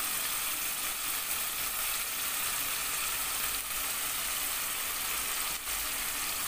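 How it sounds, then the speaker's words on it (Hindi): Boneless chicken handi cooks in a pan as milk and cream go in, giving a steady, loud, continuous sizzle with no voices. "अब दूध डालूँगा"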